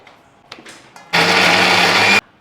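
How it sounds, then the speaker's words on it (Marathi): After a few soft knocks, a mixer grinder mincing chicken whirs loudly for about a second, a steady high-pitched motor roar that stops abruptly. "आता आपण चिकन बारीक केले बघा मिक्सरमध्ये"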